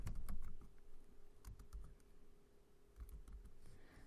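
Keys clatter in quick irregular bursts as someone types CSS code on a computer keyboard, close and clear, with short pauses between runs of keystrokes and no talking.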